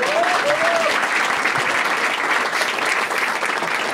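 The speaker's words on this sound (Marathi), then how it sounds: "चला याच्यासाठी टाळ्या वाजवा एकदा." An audience at a Marathi stand-up comedy crowd-work show claps steadily, a dense, loud round of applause filling the whole moment without pause.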